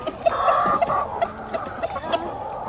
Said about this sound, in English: This rooster is uncatchable.